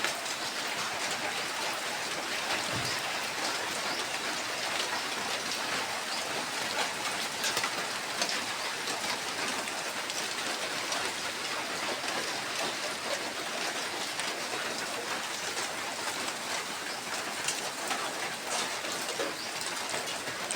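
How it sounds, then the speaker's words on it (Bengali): Steady rain falls and patters on surfaces, a dense, even hiss that stays constant throughout with no voices. "বলতে বলতে বৃষ্টি আগত।"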